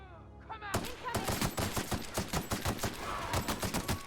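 Automatic gunfire in the video game The Outer Worlds, a rapid close burst of repeated shots in a steady rhythm lasting several seconds after a brief quieter lead-in.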